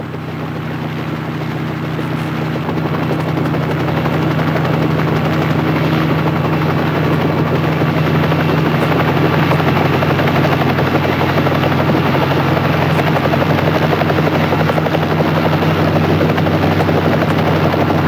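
A helicopter drones steadily overhead, its deep rotor thump and engine roar loud and continuous with no voices.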